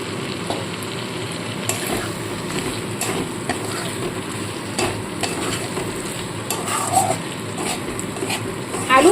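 Fried potatoes are stirred into a masala in a pan for a cabbage kofta curry, giving a steady close sizzle broken by repeated scraping clicks of the spoon, with no talking.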